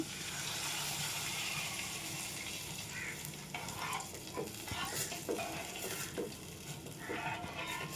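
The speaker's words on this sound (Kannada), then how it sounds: "ಈ ಥರ ಫ್ರೈ ಮಾಡಬೇಕು ಕೆಂಪುಗೆ ತುಪ್ಪದಲ್ಲಿ" Bottle gourd frying in ghee for kheer sizzles steadily in a pan, with stirring scrapes and a few light utensil clicks. The sound is close but quiet.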